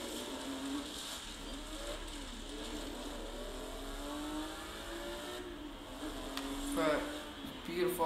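A Porsche engine revs in the Forza racing game, a steady mid-level drone with rising and falling harmonic sweeps and a brief surge near the end, under casual talk.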